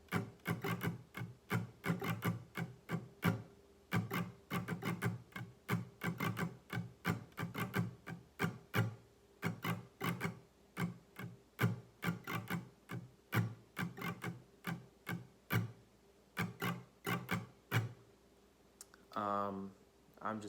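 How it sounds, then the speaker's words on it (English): An acoustic guitar plays the steady, percussive strumming pattern for a song, with quick muted strokes in a driving rhythm, quiet and unaccompanied. "the strumming pattern that I'm using for the majority of this song sounds like this"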